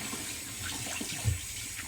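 Cold water runs from a tap during a wet shave, a steady broadband rush with a faint splash partway through, continuous and moderately close, without voices.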